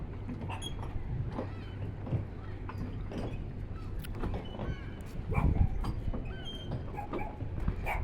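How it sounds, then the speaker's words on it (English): A small dog yaps in short, faint bursts somewhere indoors, heard from outside amid a steady low downtown street hum. "I hear a little dog in there barking."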